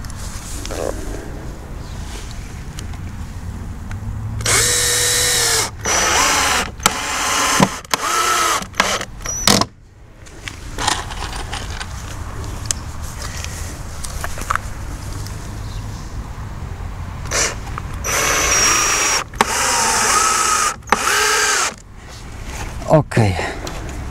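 Power drill driving screws into the wooden frame of a DIY woodshed, heard as several bursts of whirring, some near 5 s and more around 18 to 22 s, over steady background noise.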